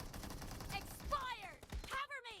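A shooter video game gives several sharp gunshot cracks and short bursts, fairly faint, mixed with voices talking over them.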